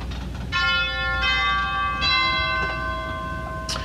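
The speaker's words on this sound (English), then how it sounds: "These are just orchestral bells struck by electronically controlled mallets." Church organ chimes, orchestral bells struck by electronically controlled mallets, ring out in a large church. Several loud, clear strikes follow one another, and each tone rings on and overlaps the next.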